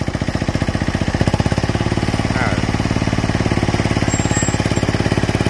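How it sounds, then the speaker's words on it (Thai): ROBIN diesel crawler dumper truck with a hydraulic dump bed, an old Japanese one-ton machine, its engine chugging in a fast, even, loud pulse close by as it is revved, with a voice briefly audible over it. "เร่งเครื่องหน่อย"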